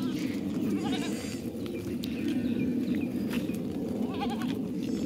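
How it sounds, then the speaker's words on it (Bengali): Several farm goats bleat in wavering calls at intervals over a steady, dense low rumble of background noise, with no talking. "এই দেখো আমাদের ছাগল, আরো ছিল বিক্রি করে দিয়েছে"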